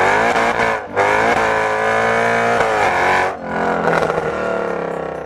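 A Mercedes C63 V8 roars loud and close while being chased by Swedish police, its harmonic howl climbing through hard revs, dipping sharply on two quick gear shifts or lifts, then surging again.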